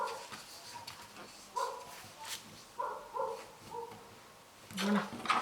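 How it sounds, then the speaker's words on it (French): A neighbour's dog barks in a series of short, moderately distant barks and yips spread across the moment, with quiet rustling between them. "C'est pas mon chien, c'est celui du voisin."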